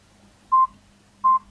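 Two short, evenly spaced electronic tones come from a mobile phone dialing a call by mistake, clear and close against a low background hum.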